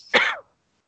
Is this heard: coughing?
yes